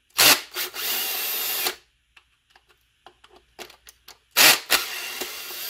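A power drill backs screws out of a potato cannon air valve lid: a long whirring burst, a scatter of faint clicks and handling noises, then another loud burst, all close and with no voices.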